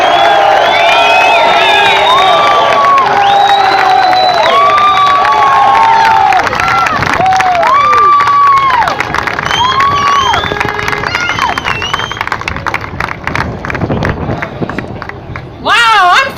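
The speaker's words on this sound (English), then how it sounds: "Give another big round of applause to Roger Stone." Loud crowd cheering, whoops and shouts at a Trump political rally in Cleveland, sustained and dense with overlapping voices, tapering slightly before a final burst near the end.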